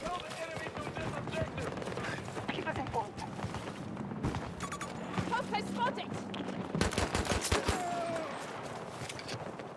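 Gunfire in the shooter game Battlefield 2042, rapid sharp shots in clustered bursts amid battle noise, close and loud, with scattered spoken remarks mixed in.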